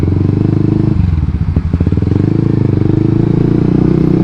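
A Suzuki GSX-R150 motorcycle engine runs close by with a loud, even putter. The rhythm briefly wavers and clatters before settling back into a steady idle.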